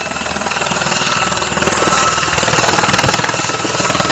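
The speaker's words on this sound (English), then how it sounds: "The chopper's gonna land now," A helicopter comes in to land close by at an outdoor protest gathering, its loud, steady rotor thrum and turbine roar filling the scene without pause.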